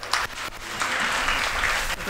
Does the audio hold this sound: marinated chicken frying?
no